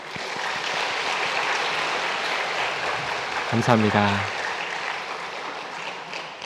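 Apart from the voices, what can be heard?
church congregation applause welcoming visitors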